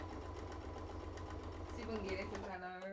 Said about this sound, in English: I'm just gonna sew all the way around